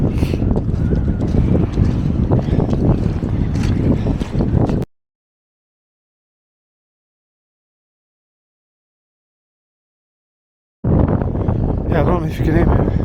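Strong wind roars at the summit of Ben Nevis, a loud, close buffeting rush across the microphone that breaks off into a long silence and then returns, with a voice talking faintly beneath it.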